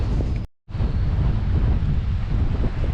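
Strong wind buffets the microphone on a beach during fishing, a loud continuous low rushing roar broken by one brief dropout.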